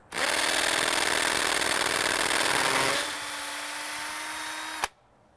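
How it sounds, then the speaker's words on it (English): A hammer drill grinds loudly into broken concrete stairs, its pitch dropping partway through, then it stops abruptly. "This is a hammer drill."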